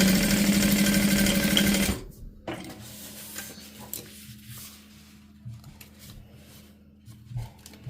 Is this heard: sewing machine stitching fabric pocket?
yes